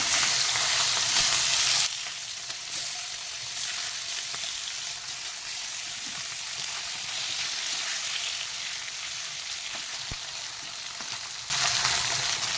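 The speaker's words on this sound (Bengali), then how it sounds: "আমি মাছগুলো অল্প ভেজে নেবো চিংড়ি মাছ বেশি ভাজতে হয় না" Prawns fry in a pan with a steady, close hiss and crackle of hot oil that runs the whole time and swells louder at the start and end, with no talking.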